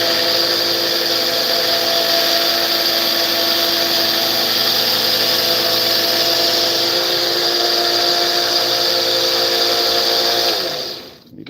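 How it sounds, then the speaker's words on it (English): A grinder running at a blacksmith forge, a steady loud high whine held constant for about eleven seconds before cutting off at the end, with no talking. "Let me know if you can hear me with the grinder on."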